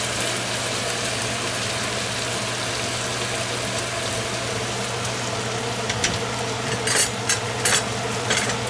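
Chicken and hot cherry peppers sizzle steadily in a pan while a utensil stirs them, with a few scraping clinks of the stirring near the end.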